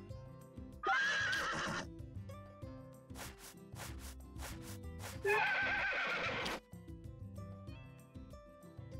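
A horse in the video game Story of Seasons: A Wonderful Life gives two loud, drawn-out whinnies, with a brief run of clip-clopping hoof taps between them, against quiet game music.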